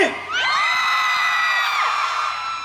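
A concert audience at an outdoor music festival lets out loud, sustained cheering, whoops and high shouts that swell suddenly and hold steady at full volume throughout.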